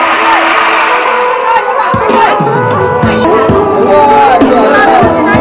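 Guests at a Vietnamese bride's send-off wedding ceremony cheer and clap loudly for the bride and groom, a steady, dense crowd roar with scattered claps and shouts over background music.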